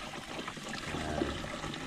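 Water trickles and splashes faintly into a container of fertilizer mixture being prepared as a weed killer, a brief, continuous gurgle with no speech.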